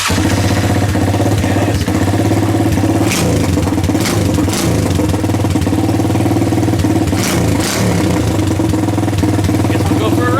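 A small-engine minibike runs loud and close, settling into a steady throbbing idle with occasional rises in revs, while a voice briefly speaks over it.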